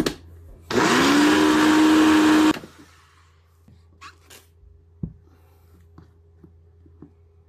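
A kitchen blender grinds cooked grape skins in a loud, steady whirring burst of about two seconds that then stops, followed by quieter clinks and handling noises.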